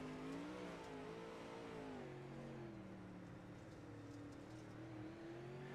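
Pro late model race car engine in a sim racing game at Limaland, droning steadily with rising and falling revs throughout, loud and continuous with no talking.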